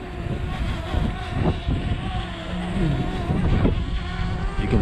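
Strong gusting wind buffets the microphone near a hovering DJI Mavic Mini drone, a loud continuous rumbling roar with low turbulent surges throughout.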